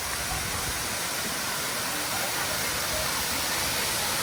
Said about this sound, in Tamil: ஃபால்ஸ் உள்ள போகிறோம்.